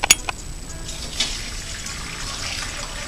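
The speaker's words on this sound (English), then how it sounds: "And pour in as much of the liquid as you can." Herbal decoction liquid poured through a strainer into a receptacle, a steady, moderately loud trickle and splash running for a few seconds after a couple of brief clinks.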